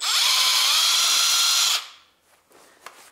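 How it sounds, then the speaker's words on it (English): A power impact driver spins loose the cylinder head bolts on a Honda Civic 1.8 engine, a loud steady whir that runs continuously for nearly two seconds, then stops abruptly and leaves faint clicks and handling noises. "I can now use this my impact driver"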